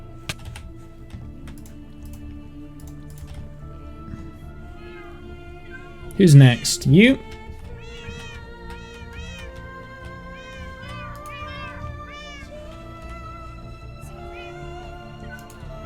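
Minecraft cat meows, two loud close meows in quick succession midway, over game background sound and a person talking quietly.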